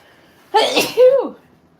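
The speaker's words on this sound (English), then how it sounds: "I'm going to sneeze." A single sharp sneeze with a short inhale before it, loud and close, then quiet.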